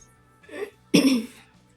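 A person with a sore, cold-affected throat coughs twice in quick succession, close by: a short muffled cough, then a louder harsh one, in a quiet room.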